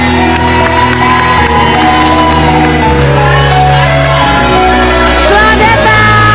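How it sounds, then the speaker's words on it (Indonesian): A studio audience on an Indonesian television talk show cheers and applauds loudly over blaring band music, shouts and whoops rising above a dense, sustained wall of sound. "Langsung saja beri tepuk tangan untuk Jeremy dan Ina"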